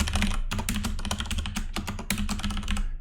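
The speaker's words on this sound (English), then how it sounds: "type in some labels" Rapid, steady typing on a computer keyboard, close and fairly loud, a dense run of clicking keystrokes with no voices.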